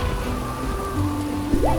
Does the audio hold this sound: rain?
yes